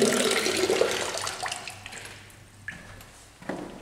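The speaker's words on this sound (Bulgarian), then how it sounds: "Пускаме водата." Water gushes from a kitchen sink tap in an apartment with very high mains pressure, a close hissing flow that starts strong, then thins and fades with a couple of small splashes near the end.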